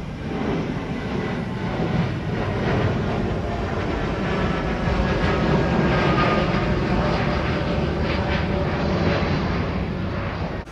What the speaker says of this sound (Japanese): 飛行機の、うわ、来た来た来た来た来た来た。